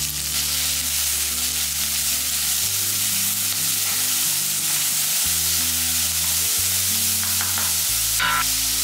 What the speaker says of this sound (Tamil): இந்த வெங்காயம் வதங்கும் போது